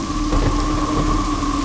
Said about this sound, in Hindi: इतनी बारिश क्यों हो रही है?